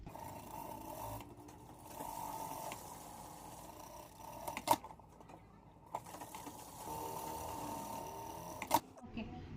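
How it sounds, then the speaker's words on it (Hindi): A sewing machine stitches the crotch seam of pleated pants in two long runs of steady mechanical whirring with sharp clicks at each stop, under someone speaking quietly. "ये क्रॉच वाला जो शेप है इसको दोनों साइड में ऐसे स्टिचिंग कर लेना है।"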